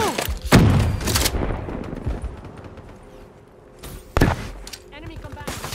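Call of Duty Black Ops III multiplayer combat with thudding blasts and a sharp explosive burst, surrounded by scattered gunfire and game noise, while shouted voices are heard at the start.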